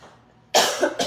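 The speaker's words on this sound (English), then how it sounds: "Take a minute while I cough." A person coughs in a home kitchen while cooking stuffed peppers, two sharp close bursts in quick succession after a quiet start.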